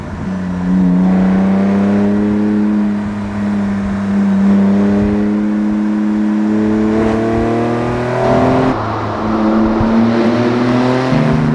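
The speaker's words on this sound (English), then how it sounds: "normally this is an engine that you have to rev the crap out of to get, you know, the most acceleration" Porsche Boxster-based lightweight kart, its engine loud and close as it accelerates through the gears, the pitch climbing in long revving pulls and dropping briefly at each shift, with no talking.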